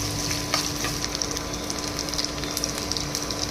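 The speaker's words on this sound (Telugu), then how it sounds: "అలాగే ఆనియన్స్, కరివేపాకు కూడా వేసి వేయించుకుందాం." Onions and curry leaves frying in a pan for a Telugu-style lentil curry, giving a steady close crackling sizzle with light scraping and clicking throughout, no voices.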